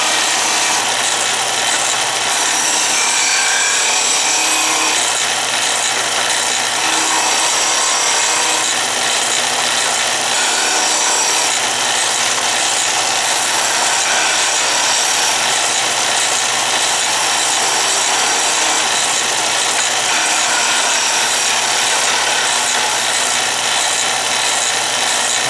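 Power sander working the wooden pieces of a clothes drying rack, a loud continuous abrasive rush with a steady motor hum underneath, lasting the whole stretch without pause and with no talking.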